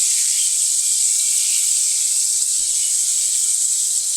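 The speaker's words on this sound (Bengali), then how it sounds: "একটা একটা করে উল্টে দেওয়ার পর উল্টা পিঠও আমি ভালোভাবে ভেজে নিব।" Chicken pieces frying in hot oil give a loud, steady, close hiss of sizzling that runs unbroken throughout with no talk.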